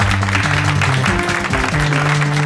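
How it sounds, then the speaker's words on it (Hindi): Audience clapping to welcome eight contestants on a television quiz show set, loud and continuous over a brief stretch, mixed with a sustained musical fanfare underneath. "इनका जोरदार तालियों से हम स्वागत करते हैं"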